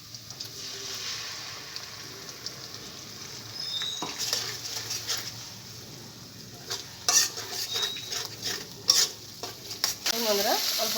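Fried onions and a ground masala paste for a rui fish masala curry are stirred in a pan, giving a continuous sizzle with irregular scraping and clinking of the spoon that grows busier toward the end.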